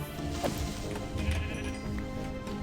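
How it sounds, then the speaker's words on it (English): Sheep in Minecraft 1.20.1 survival bleat near a mountainside, a short cry rising over a dense layer of game music and sound effects, with a couple of thudding knocks in the mix. "they are actually just normal sheep that have randomly spawned here"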